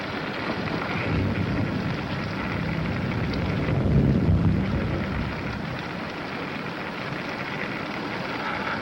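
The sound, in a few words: rain and thunder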